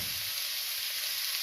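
Chilli, nigella seeds, bay leaf and tomato with salt sizzling in hot oil, a short burst of steady close frying hiss.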